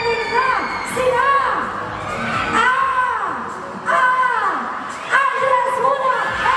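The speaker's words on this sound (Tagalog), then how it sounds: "Kailangan may masigawang palakpakan. Sigawan na nakatayo dahil nakarating na sila!" A mall crowd at a celebrity tour event cheers and screams in long rising waves, loud and dense, with shrill young voices prominent and an announcer's voice mixed in.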